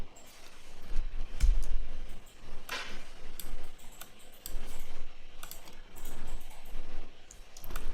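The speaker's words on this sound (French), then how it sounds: "Touche tabulation du clavier pour valider" Scattered keyboard key presses tap and click at an irregular pace, fairly quiet against a soft room background.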